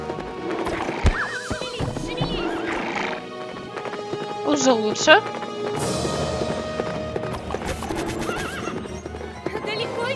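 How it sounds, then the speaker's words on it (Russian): A horse in the Tangled video game whinnies loudly and gallops with quick clip-clopping hooves, mixed with game music, and a person briefly speaks over it. "Черт, запнулась лошадка."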